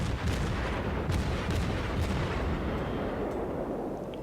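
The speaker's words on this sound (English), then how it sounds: "I don't let these guns stop firing" Naval ship guns in the World of Warships game fire in rapid heavy booming salvos, loud and continuous with no pause, the blasts rolling into one another.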